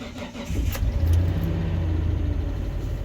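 Mitsubishi Pajero GDI engine starting: a short crank, then the engine catches and settles into a steady, close idle.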